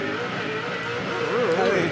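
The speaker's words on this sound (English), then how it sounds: "listen to the wheel spin here where he grabs short shift second to third" Race car engine at Calder Park revving hard with wheel spin over the hump, rising and warbling pitch as the driver short-shifts from second to third, heard under a commentator's continuous talk.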